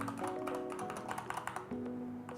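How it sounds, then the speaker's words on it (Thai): Corsair K70 MAX mechanical keyboard with keys being pressed: a dense run of quick, firm taps and clicks close to the microphone, steady and unbroken, with no voice over it. "เสียงแน่นจังหวะในการกดก็จะเป็นจังหวะ จังหวะเดียว จังหวะเดียวนะครับอารมณ์บาวสวิตอะ"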